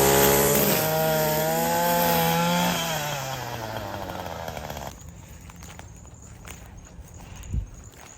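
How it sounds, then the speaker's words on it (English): A weed whacker's engine whines loud and close as it cuts through thick brush, its pitch sagging under load before it cuts off, leaving quieter rustling and footsteps in deep cut growth. "if they get too close while I'm working the weed whacker"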